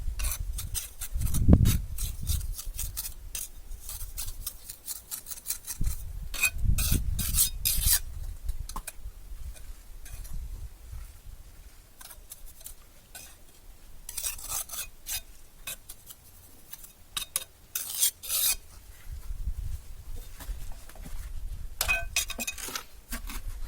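A trowel packs mortar into the joints of a refractory brick vault on a wood-fired oven, making close, intermittent scraping and rubbing strokes with short pauses between them.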